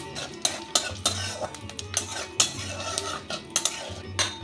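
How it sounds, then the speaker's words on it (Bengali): A tempering of bay leaf, fennel seeds and asafoetida fries in hot oil, a low sizzle under repeated sharp clinks and scrapes of a metal spoon against the pan. "এবার দিয়ে দিচ্ছি একটা ফোড়ন, তেজপাতা, অল্প একটু মৌরি আর সামান্য একটু হিং"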